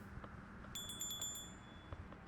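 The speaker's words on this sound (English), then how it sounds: "That is why I want the bell, is because it makes ding noise." A quick series of bright ringing bell dings, five or six in a row, chimes over a low background hum in the video game FAR: Lone Sails.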